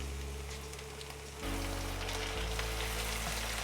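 Tomato puree hits a hot pan of ginger and garlic paste and oil, and the sizzle jumps to a loud, steady crackling hiss that carries on to the end.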